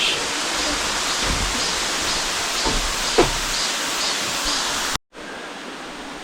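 The eleventh of the twelve falls at Naeyeonsan near Bogyeongsa in Pohang, a steady broadband rush of falling water filling the scene, close and loud, cutting out abruptly near the end before briefly returning.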